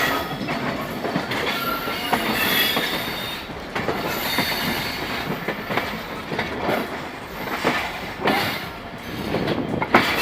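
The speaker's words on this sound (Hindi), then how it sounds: "बेहतरीन साउंड ट्रैक के साथ शाह लतीफ़ एक्सप्रेस रवा दवा" Shah Latif Express train running steadily, wheels clattering and squealing on the rails with a continuous loud rumble throughout, close and alone without talk.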